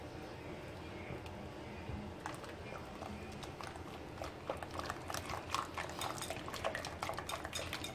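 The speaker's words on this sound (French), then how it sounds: "Je vais venir mélanger ça avec les mains." Brioche dough ingredients, including egg, being worked together by hand in a bowl: soft squelching and scattered light clicks that grow busier and more frequent in the second half, with no talking.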